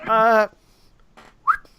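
A person whistles to imitate a dwarf whistling during a fantasy tabletop game session: one short loud warbling whistle, followed by quieter breathy sounds and a brief rising whistle chirp.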